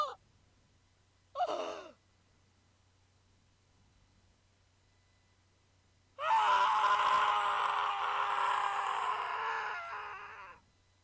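A Steins;Gate character lets out a gasp and a short breath, then after a pause a long, strained scream of despair that holds for about four seconds before fading.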